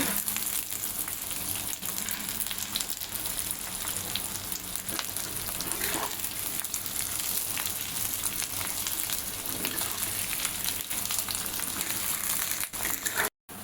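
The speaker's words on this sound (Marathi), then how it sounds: "कांदा आपला गुळधव रंगावर झालाय तळून" Five large sliced onions fry in hot oil until golden brown for chicken biryani, giving a steady, dense sizzle that runs unbroken and close throughout, with no voices.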